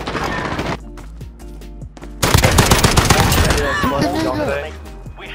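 Rapid automatic FAL rifle fire in a video game, loud and close, with dense bursts of shots that swell into a sustained barrage, overlaid with other game sounds and voices talking.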